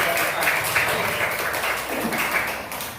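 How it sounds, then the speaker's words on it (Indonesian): Steady applause from a group, a dense wash of clapping that holds for a few seconds without pause. "tepuk tangan untuk kelompok 4"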